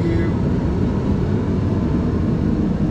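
A Mr. Heater 70,000 BTU kerosene forced-air heater runs with a steady, loud, roaring blower and burner rumble, constant throughout with no breaks.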